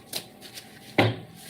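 Tarot cards being shuffled by hand: a few quick, soft riffling flutters followed by one louder, sharper snap of the deck, close up and with no voice.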